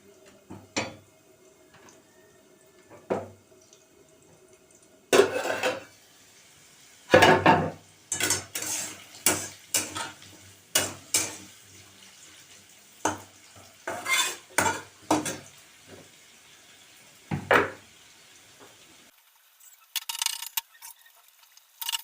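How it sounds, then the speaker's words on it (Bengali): A heavy pot of vegetables being stirred during cooking, with irregular clanking and scraping strokes, some in quick bursts and others spaced apart, close and moderately loud over a quiet background. "এটা ভারী তো তো একটু নাড়াতে অসুবিধা হচ্ছে।"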